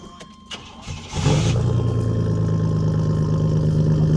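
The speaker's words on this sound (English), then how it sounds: "Rev it up, buddy. Go ahead, you rev it up." A cheap, rusty old pickup truck cranks and starts, then settles into a loud, steady, rumbling idle close by after a couple of faint clicks and a short whirring crank.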